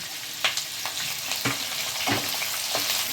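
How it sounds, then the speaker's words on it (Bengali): Sliced onions and green chillies sizzling in hot oil in a pan for chilli chicken, a steady close frying hiss broken by a few stirring scrapes. "দিয়ে আমি একটু হালকা লাল হওয়া পর্যন্ত ভাজবো, একদম হালকা লাল হওয়া পর্যন্ত"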